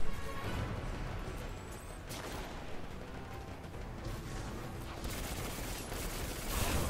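Dense, continuous sci-fi gunfire and explosive bursts from the space shooter Destiny 2, a steady loud barrage with brief swells near the start and end and no voices.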